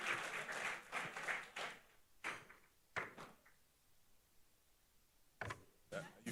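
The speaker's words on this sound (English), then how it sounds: "Big round of applause for Sharon." Scattered audience applause at the Caribbean Global Awards 2023 ceremony comes as a lively burst of clapping at first, then thins into sporadic, separate bursts with quiet gaps between.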